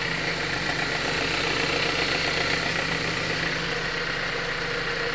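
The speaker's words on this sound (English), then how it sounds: "That's the alternator there." A 2013 Chrysler 200 engine idling steadily with a constant whirring, faintly rattling mechanical hum from a noisy alternator clutch pulley, loud and close with no pauses.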